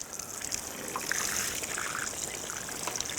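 Water poured heavily over the charging connector of a Nissan Leaf electric car, a continuous hissing splash and trickle that stays steady and close, with no voices.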